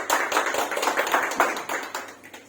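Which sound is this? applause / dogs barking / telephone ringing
applause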